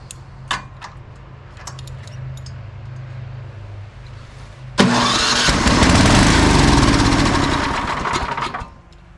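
A Craftsman 27-inch snowblower with a suspected fuel problem has its engine suddenly fire and roar loudly to life after a quiet stretch with faint clicks, then keeps running steadily before dropping off near the end.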